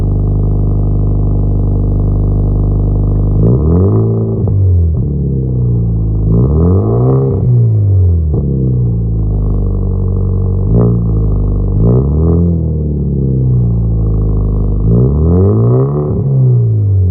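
A 2013 Hyundai Genesis Coupe with an ISR race catback exhaust idles loud and deep, then revs up and falls back in repeated blips, close and alone.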